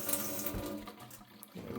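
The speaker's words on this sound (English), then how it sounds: "I usually rinse them off with a bit of water afterward" A small etched circuit board rinsed under a running kitchen tap, water splashing steadily with clinks and rattles of handling, close and continuous with no talk.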